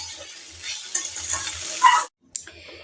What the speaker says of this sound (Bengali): সুগার ফ্রি দিয়ে আমি এটাকে এখন খুব সুন্দর করে নাড়াচাড়া করব।